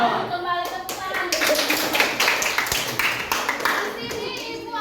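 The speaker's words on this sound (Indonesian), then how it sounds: "Kembali tepuk tangan." Children clapping their hands together in a classroom, a loud, steady run of rhythmic claps that goes on throughout, with some young voices mixed in.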